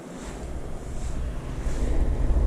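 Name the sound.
boat wake waves washing against a pedal kayak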